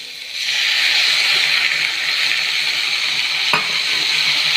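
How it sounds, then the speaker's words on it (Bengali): Soaked Gobindobhog rice stirred into fried vegetables with soybean and spices in a home kitchen, a steady close sizzle with scraping stirring throughout and one sharp tap near the end. "ভালোভাবে মিশিয়ে নেব আমি চালটা"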